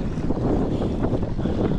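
Wind rushing past while cruising over shallow water on a small fishing boat with a drive system, a steady loud rumbling buffet with no pauses.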